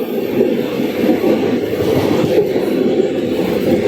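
A special train rumbles steadily through a railway station without stopping at close range, a loud continuous roar of wheels and carriages with no voices.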